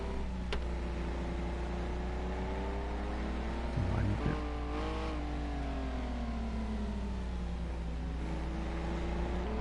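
Racing video game race car with an engine that sounds like a diesel Volkswagen or an aggravated lawnmower, a steady droning buzz with layered harmonics that bend and rise briefly near the middle, then settle back into a continuous low hum.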